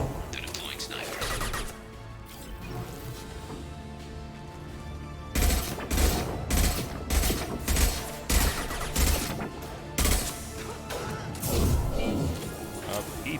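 Repeated heavy gunshot bursts in the Mass Effect 2 video game, sniper fire among them, crack in loud clustered volleys through the second half over a steady battle-music and effects bed.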